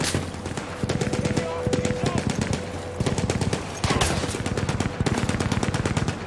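Machine-gun fire rattles in rapid, sharp bursts during a Battlefield 1 campaign battle, close and loud with short pauses between volleys, while a voice talks underneath.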